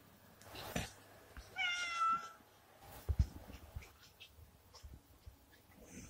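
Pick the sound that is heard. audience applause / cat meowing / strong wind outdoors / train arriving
cat meowing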